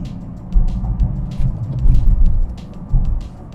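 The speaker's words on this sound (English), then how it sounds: "So now I'm on third gear. I'm going to rev it hard." A Ford Aspire petrol three-cylinder engine revs hard in third gear with a low, rough rumble that surges in repeated bursts, close and fairly loud.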